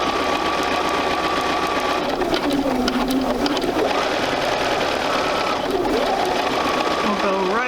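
A sewing machine runs steadily through a quarter-inch seam on a quilt sampler block, its continuous motor hum and rapid needle chatter close and loud, with a voice talking over it.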